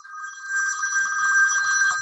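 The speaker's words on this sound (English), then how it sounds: "Excuse my phone, I didn't realize I'd not turned it off." A mobile phone rings with a steady electronic warble, loud and close, repeating continuously for the whole two seconds with no talk over it.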